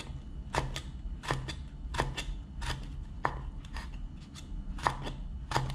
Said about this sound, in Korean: 저는 장식 할 거니까 이렇게 예쁘게 그냥 딱딱하게 썰어주세요